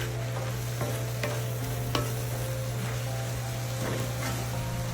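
Egg roll in a bowl mixture, cabbage and ingredients, stirred in a pan over the stove, giving soft scraping strokes at an uneven pace over a steady low sizzle and hum, close by with no talking.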